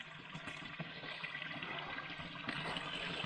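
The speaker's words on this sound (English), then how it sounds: "this little crevasse has been cut out by this cool little waterfall" A small waterfall cutting a shallow crevasse on the Track and Tower Trail in Algonquin Park trickles steadily, a soft continuous wash of water with no voices.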